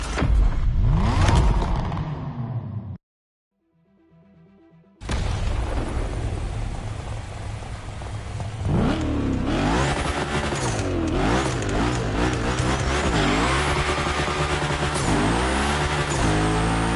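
Car engines roaring and tires squealing in The Crew Motorfest, loud revving with wavering pitch after a brief silent gap, continuous and close with layered engine drones.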